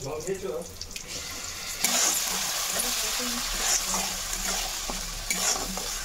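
Garlic and onion paste sizzles in a pan, with scraping stirs and clinks over a constant frying hiss, faint speech now and then.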